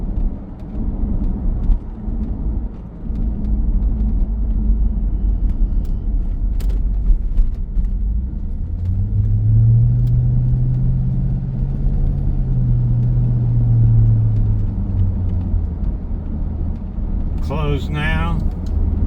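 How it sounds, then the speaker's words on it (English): A 2002 C5 Corvette's exhaust with valves opening and closing burbles as a steady low rumble, rising to a louder, fuller drone midway before settling back, with someone talking briefly near the end. "Those exhaust valves are working exactly like I wanted them to."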